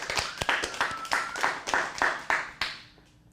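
A small group in a teen improv acting class claps in a loose, fairly rhythmic series of sharp, close claps, each ringing briefly in the room, slowing and trailing off near the end.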